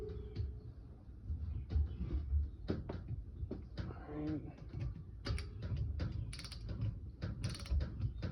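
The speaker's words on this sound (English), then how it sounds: "So I'm just torquing these down to 10 right now" A wrench tightens bolts on the front differential of a Honda 300 ATV, making repeated close ratcheting clicks and metallic creaks in uneven bursts.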